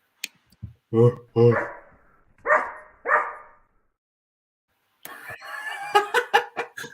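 A person imitates a dog choking on a bone, giving a few harsh, gagging, bark-like bursts close to the microphone, then a stretch of rapid choppy vocal noise after a short pause.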